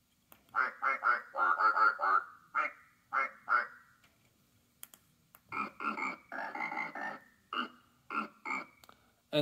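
Repeated nasal quacks in quick bursts, pausing midway and then resuming in a longer rapid series of quacking calls.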